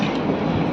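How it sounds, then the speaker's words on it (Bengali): A train pulls out of a station, a steady close rumble of the carriage with a broad, dense roar over a brief moment. "অফিস থেকে প্রায় এখন ছাড়ছে এখন ট্রেনটা"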